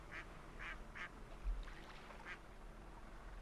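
Ducks in the farming video game Hundred Days give a series of short, soft quacks spaced unevenly over a faint steady background.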